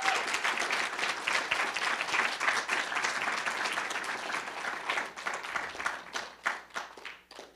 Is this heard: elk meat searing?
no